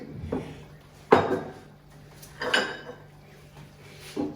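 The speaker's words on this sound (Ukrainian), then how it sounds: "Я зараз наливаю, перемішала і наливаю." A ladle clinks and scrapes against a metal pot of rassolnik soup a few times, with soft stirring sounds and pauses between the knocks.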